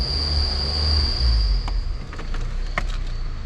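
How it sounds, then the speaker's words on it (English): A vehicle's engine belt squeals with a steady, high-pitched whine over a low engine rumble, heard from inside the car, with a few short clicks near the end. "we've got a vehicle with a belt squeal"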